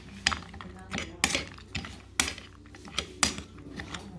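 Egg yolk and white are whisked together in a bowl for homemade dog biscuits, a run of sharp utensil clinks and scrapes against the bowl in an uneven rhythm, with a voice speaking in the background.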